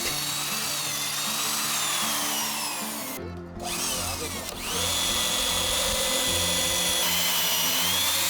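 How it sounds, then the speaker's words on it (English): A power drill with a large 21mm bit grinds loudly and continuously into a wooden sill plate, briefly dropping in pitch mid-way as the bit bites, then spinning back up. "I use a 21mm drill bit for the standard anchor bolt."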